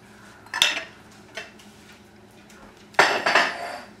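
Pasta and chicken are tossed together in a pan, with two bursts of metal utensil clanking and scraping against the pan and a quieter knock between them.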